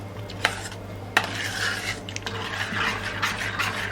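Jaggery is mixed into kheer in a pot, with a metal spoon knocking and scraping against the pot in a few sharp clanks followed by softer continuous stirring.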